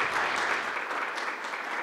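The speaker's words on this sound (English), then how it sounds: "If we want to have another round of applause for everyone that opened up this evening's program" An evening college lecture-series audience gives a sustained round of applause in an auditorium. The clapping is even and steady, heard from a moderate distance at fairly low volume, with no talk over it.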